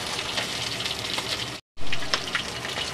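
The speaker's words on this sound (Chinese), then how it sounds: "咁我哋都系将嚿鱼咧就煎一煎封佢啦" Fish belly pieces laid skin-side down in a hot pan over medium-low heat sizzle steadily and loudly, a dense crackling hiss with one brief break.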